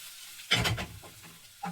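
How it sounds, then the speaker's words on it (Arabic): Lentils stirred into sautéed vegetables in a pot give a short burst of scraping, sizzling stirring, then a quiet pause and a second brief stir near the end, close up. "وهقلبه كده"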